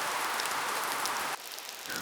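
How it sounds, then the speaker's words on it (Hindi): Heavy rain pours down in a steady, close, hissing wash for two seconds, dipping briefly in level partway through, with no voices heard. "बहुत ही बारिश होने लगी"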